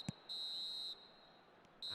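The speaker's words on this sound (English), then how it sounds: "And there goes the final whistle." A referee's final whistle in a football video game sounds as several sharp, shrill blasts, one short toot followed by a longer sustained blast and another starting at the end, thin and fairly quiet against a hushed background.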